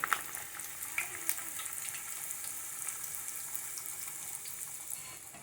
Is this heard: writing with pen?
no